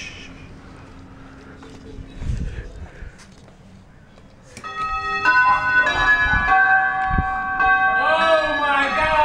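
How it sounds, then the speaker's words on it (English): A doorbell chimes again and again inside a home, bright ringing tones coming in bursts during the second half, with lower thuds and muffled talk before them. "I keep ringing the doorbell"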